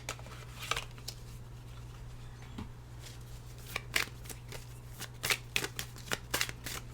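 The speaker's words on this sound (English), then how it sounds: "Let me just shuffle and pull from this one last deck" A deck of cards is shuffled with irregular soft riffles and snapping flicks, growing busier toward the end, over a steady low background hum.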